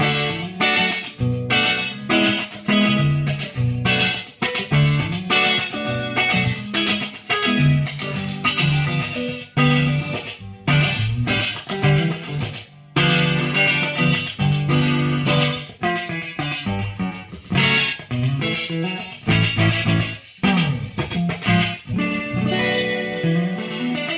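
Electric guitar played through an Echoplex tape echo unit, with compression and cold, accurate repeats trailing each note; dense, continuous playing with strummed chords and echoing phrases, loud and close, no talking.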